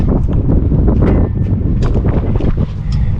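Steady wind rushing and buffeting a microphone aboard a sailboat out on the Great Harbor off Mount Desert Island, Maine, on a cool southeasterly breeze, loud and continuous with gusty swells and faint water sounds beneath.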